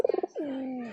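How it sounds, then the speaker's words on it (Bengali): A pair of domestic pigeons, a new male and female, give a short burst of soft pulsed coos followed by a longer drawn-out coo, close and clear with no talking. "শিকারি পায়রাটা চলে আসছে"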